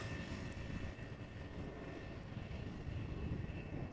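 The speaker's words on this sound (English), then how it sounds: "It is an Airbus A321neo that is 3 years old. Look at it go on the glide slope of runway 18 right." A three-year-old Airbus A321neo descends on the glide slope to runway 18 right, its jet engines a faint, steady low rumble with a thin whine, alone and distant.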